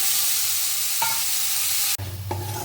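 Tomato pieces cook in a pan, a steady close sizzle with short stirring scrapes, cut briefly midway before the frying noise resumes slightly louder.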